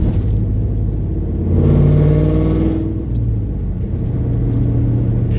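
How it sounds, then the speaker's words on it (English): A deep, throbbing LS V8 engine rumble from a 1998–2002 Pontiac Trans Am WS6 close by, swelling briefly as the revs rise, then settling back to a steady idle. "American LS V8, you cannot beat that sound."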